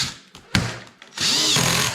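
Power drill driving screws into a ski touring binding: a couple of short whirring bursts, then a loud, sustained motor whine at close range.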